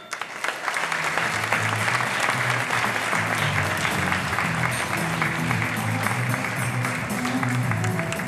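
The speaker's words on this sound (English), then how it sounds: "Let's give a big hand of applause to محمد رضا" Loud, sustained applause from a festival closing-ceremony audience honouring jury member Mohamed Reda, dense and steady throughout with faint voices beneath.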